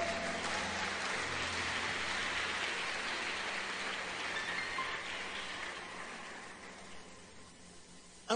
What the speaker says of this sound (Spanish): Aplauda más fuerte, aplauda más fuerte.